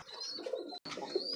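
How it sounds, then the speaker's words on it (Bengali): An Indian pigeon coos close by in soft, rounded, throaty calls. A few of them run into each other over a quiet background, with a brief silent break in the middle. "এটা ইন্ডিয়ান একটা কবুতর।"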